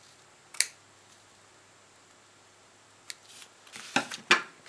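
Sharp scissor snips cut through book binding material, one isolated cut early on followed by a quick cluster of crisp snips near the end, close and fairly quiet against a hushed room.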